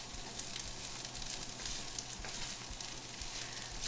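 Fried rice sizzling in a hot pan over a strong flame, a steady soft hiss with faint scraping ticks from stirring, quiet and continuous with no voices.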